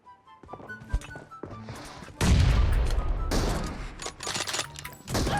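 Gunfire in the mobile battle royale game PUBG Mobile: a few isolated shots, then a sudden loud burst of rapid automatic fire with heavy thuds, followed by more scattered bursts.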